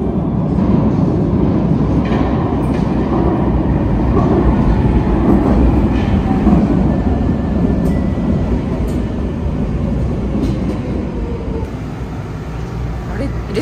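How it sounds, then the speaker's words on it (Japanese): A Vienna subway train rumbles steadily through a ride, with dense low roar and rattling carriage noise throughout, loud and close, with faint voices mixed in under it. "これから地下鉄乗っていきます。"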